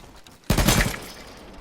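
A sudden loud crack of video game gunfire with a rumbling, decaying tail, the single shot landing a headshot after a quiet lead-in.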